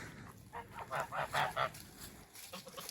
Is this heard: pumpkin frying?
no